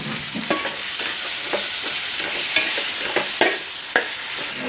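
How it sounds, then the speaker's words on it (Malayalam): Coriander leaves, mint, curry leaves and chopped tomato sauté in Kozhikode-style chicken biryani masala, a steady sizzle broken by several sharp clicks of a spoon scraping the pan. "ഇനി ഇതിലേക്ക് കുറച്ച് മല്ലിച്ചപ്പ്, പുതിനയില, കറിവേപ്പില, ഒരു തക്കാളി അരിഞ്ഞു വെച്ചിരുന്നു, അതുകൂടി ഇതിലേക്ക് ചേർത്ത് നന്നായിട്ടൊന്ന് വഴറ്റിയെടുക്കാം"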